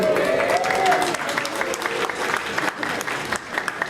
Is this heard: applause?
yes